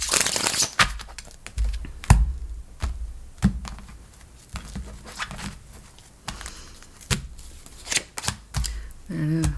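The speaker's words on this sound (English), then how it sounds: "It's taking a couple shuffles on this one." Tarot cards shuffled by hand in repeated riffling bursts with sharp taps and snaps between them, close and fairly loud, with occasional quiet talk.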